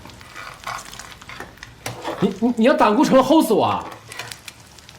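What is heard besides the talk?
eggs frying in a pan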